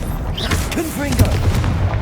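The Confringo spell explosion in the Hogwarts Legacy video game gives a loud, booming blast with crackling magical effects around it, close and full, with a brief voice mixed in.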